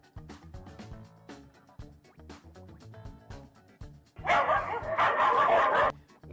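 Several dogs bark in a group, faint and muffled at first among other low sounds, then a loud burst of overlapping barking holds for nearly two seconds before it cuts off.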